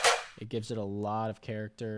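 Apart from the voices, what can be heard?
snare drum sample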